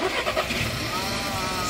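Car engine cranking and catching, a short burst of starter noise settling into a steady running hum, fairly close.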